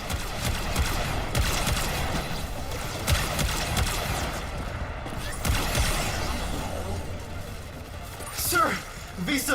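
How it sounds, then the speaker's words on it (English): Gunfire in the video game Warframe, a dense rattling fusillade of rapid shots with bursts and impacts layered over game sound, continuous and fairly loud, with speech at times. "Why are you shooting at me?"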